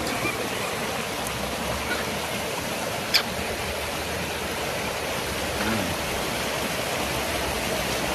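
Steady rushing water from a flowing river, a constant broadband wash with no voices, interrupted once by a brief sharp click.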